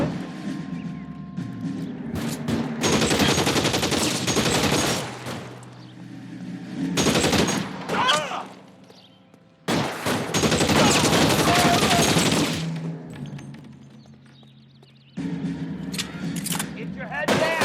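Sustained bursts of automatic gunfire and shots in the L.A. Noire video game, loud and dense, coming in several long volleys separated by short pauses, with voices shouting in between.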